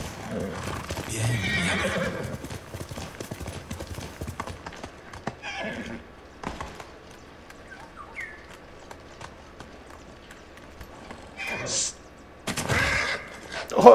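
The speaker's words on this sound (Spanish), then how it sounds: "¡Ay, pobre caballo!" A horse whinnies and its hooves clop in the Ghost of Tsushima video game, shifting bursts of game noise with a few sharp louder hits, heard without speech.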